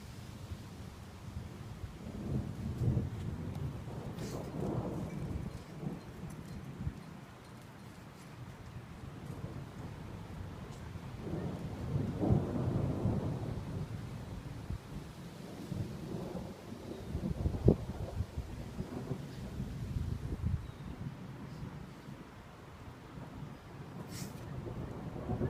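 A thunderstorm in California brings deep, rolling rumbles of thunder that swell and fade repeatedly over a constant hiss of rain and some wind, with no voices.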